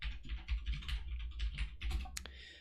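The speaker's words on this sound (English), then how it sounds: "If I have to scratch my head while I'm typing out the code here" Rapid, irregular clacking of keys as code is typed on a computer keyboard, close and fairly loud, in bursts with brief pauses and no talk.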